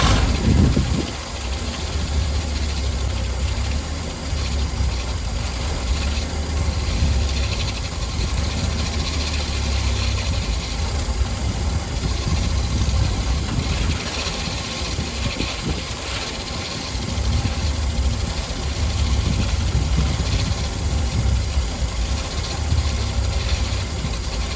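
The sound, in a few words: engine idling after Carter one-barrel carburetor rebuild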